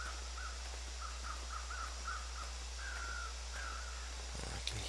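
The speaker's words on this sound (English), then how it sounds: "I can hear the crows." Crows cawing in the video game The Long Dark, a run of short repeated caws followed by a few longer drawn-out calls, faint and distant over a low steady outdoor hum.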